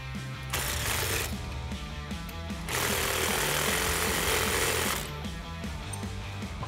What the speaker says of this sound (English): 17 socket and wrench and tighten that down